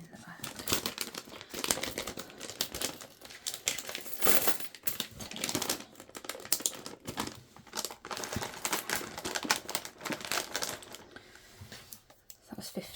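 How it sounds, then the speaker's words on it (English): Five pence coins tumble into a bag one handful after another, giving a close, irregular patter of small metallic clinks with soft rustling, and the run of clinks starts and stops. "15 5 pences going in the bag."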